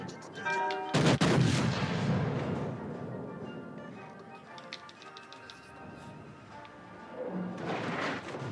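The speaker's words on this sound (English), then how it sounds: "5 HE shells hit" Naval gunfire in World of Warships: Legends, a heavy opening boom followed by rumbling shell impacts and lingering battle noise with a faint game tone, no speech.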